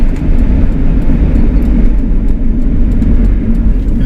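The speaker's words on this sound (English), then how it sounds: "tires on those custom wheels are a little loud in this one, if you can hear that" Loud, steady road and tire roar from a right-hand-drive Jeep Cherokee on custom wheels, heard from inside while driving, a continuous low rumble with no talk.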